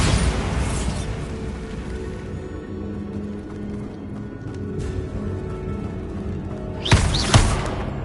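The Bombarda explosion spell in a fantasy video game: a low, rumbling blast that tails off into a lingering drone, then a second sharp burst near the end, loud and close.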